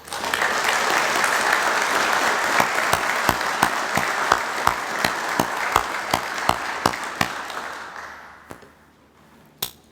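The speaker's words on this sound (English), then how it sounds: "I think we owe them all a round of applause." Audience at a graduation ceremony applauding in steady dense clapping, with sharper individual claps standing out, before it thins and fades near the end.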